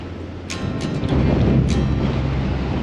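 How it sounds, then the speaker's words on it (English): Strong wind at the Lancelin sand dunes near Perth, Australia roars and buffets the microphone, with gusty rumbling and a few brief higher whooshes. "It's windy."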